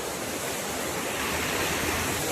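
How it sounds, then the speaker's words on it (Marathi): Village waterfall and babbling stream water in Konkan, a steady, dense rushing roar that fills the whole short stretch without a break, with no voices. "हे खळखळतं पाणी, तिकडे हे धबधबा आपला"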